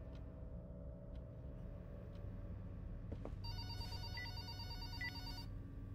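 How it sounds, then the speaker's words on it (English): A telephone rings in the horror video game Irritated Mind, starting partway through with repeated trilling bursts over a low droning ambience, fairly faint and with no talking. "Phone's ringing."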